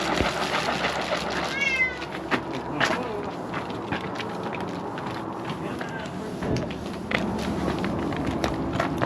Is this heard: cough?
no